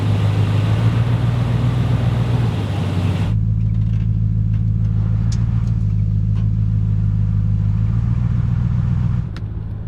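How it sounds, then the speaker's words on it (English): Nissan Patrol Y62 stuck on a rough bush track with its wheels spinning, the engine holding a loud steady drone that lasts the whole clip, its pitch shifting slightly as tyres scrabble, heard close with no talk. "wheels are spinning, but you're not moving"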